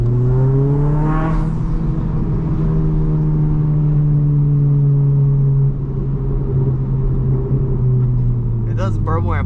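The exhaust of a modified 2022 Honda Civic Si with a downpipe and front pipe drones during a night drive, rising and settling under steady cabin rumble, with someone talking over it.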